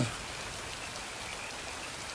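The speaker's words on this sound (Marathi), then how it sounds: "हा जो सगळा पाऊस पडतोय ना" Steady rain pours down, a dense even hiss of drops on surfaces with no break.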